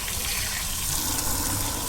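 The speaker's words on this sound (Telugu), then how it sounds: "చైర్ మీద కూర్చొని స్నానం చేసుకుంటున్నాను నీట్గా." Tap water gushes steadily while a pet dog is bathed at home on a hot day, a continuous close splashing rush with no pauses.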